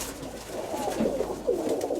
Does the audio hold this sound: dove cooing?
yes